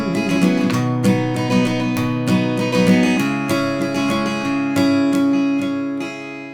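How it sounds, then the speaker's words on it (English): Acoustic guitar strummed in a steady down-up pattern for a song, full bright chords ringing continuously and close, with no voice. "Let me demo the strumming pattern for you first."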